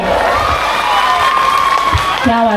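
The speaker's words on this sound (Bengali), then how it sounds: "আবার হাততালির সঙ্গে আবার চিৎকার, এটা ফ্রি" Loud crowd at a Raksha Kali puja cultural show in Parbatipur Sadarpara, with cheering, whoops, shouts and some clapping layered together close up, and a voice rising above the din.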